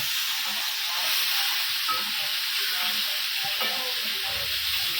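Bombil fish sizzles loudly and steadily in a pan, a continuous frying hiss as the fish is flipped to its other side, with faint soft scrapes underneath and no talking.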